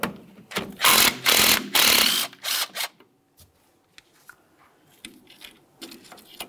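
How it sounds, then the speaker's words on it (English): A ratchet works a 10 mm bolt loose from the front brake flex hose on a 2006-2012 Ford Fusion: rapid bursts of loud clicking close up, then faint metallic taps and handling noises. "Remove your 10 millimeter headed bolt."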